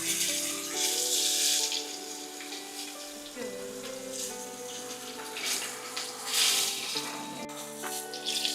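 Braised short ribs being seared in a hot pan, sizzling and hissing steadily in waves that swell and fade, close by, under a tonal musical background.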